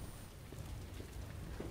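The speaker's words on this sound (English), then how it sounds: "It's raining." Rain pours steadily in Resident Evil 2 Remake, a soft, continuous hiss of drops on surfaces with a low rumbling undertone, faint and even throughout with no voices.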